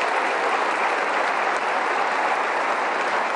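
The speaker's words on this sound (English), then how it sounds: "please give him a big round of applause" Applause from the audience at the West Virginia State of the State Address, a steady dense wash of many hands clapping, even and sustained throughout with no voices on top.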